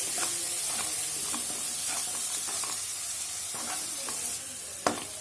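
A spice masala for dhaba-style egg bhurji sizzles steadily in a hot pan while a utensil stirs it, giving soft periodic scrapes over the continuous frying hiss and ending with a sharper clack near the end; no talking.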